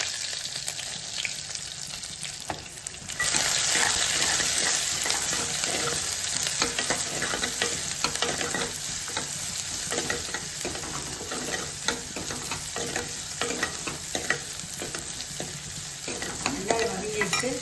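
Curry leaves, dried red chillies and shallots drop into hot oil where mustard seeds have already popped, and the frying swells into a loud, dense crackle after about three seconds, with steady stirring scrapes and no voices.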